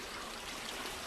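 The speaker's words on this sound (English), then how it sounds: "I'm just showing here where our creek or stream that started in our mixed swamp area finally makes its way through the coniferous forest" A small creek flows through coniferous forest on its way to Fleetwood Creek, a faint, continuous rush and trickle of water with no voices.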